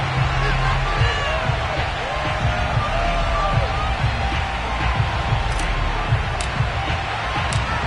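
Stadium crowd at FedEx Field in an EA Sports football video game, a steady, dense roar of fans with scattered thumps, while a commentator talks over it throughout.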